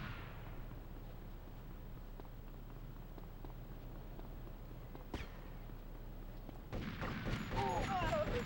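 Gunfire in the video game Grand Theft Auto Vice City, a sharp shot standing out near the middle over a steady game rumble, then denser bursts of firing and action toward the end.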